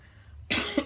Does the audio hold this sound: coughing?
yes